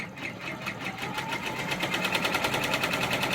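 A Brother embroidery machine stitches a fabric tiling scene in rapid, even, chattering pulses that run steadily and close, with no voices over it.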